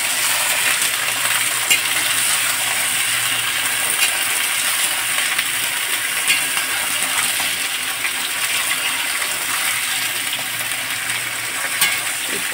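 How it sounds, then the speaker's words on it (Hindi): Cauliflower, potato and peas fry in a pan with a steady, close sizzling hiss, broken by faint clinks and stirring scrapes, and no talking. "इसको 10 मिनट तक दोस्तों फ्राई करेंगे।"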